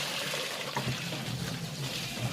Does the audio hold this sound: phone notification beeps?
no